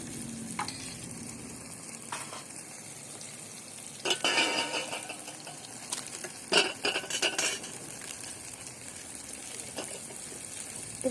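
Ground spice masala, ginger-garlic paste and turmeric being stirred in a cooking pot, a faint steady sizzle broken by a few scraping, clinking bursts of the spoon against the metal, close with no talking.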